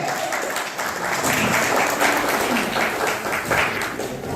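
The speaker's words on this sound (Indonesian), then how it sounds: "Tepuk tangan dong buat kasih." Crowd at a live drum solo performance breaks into sustained applause, a thick, loud spread of clapping and cheering-room noise that swells slightly and continues throughout.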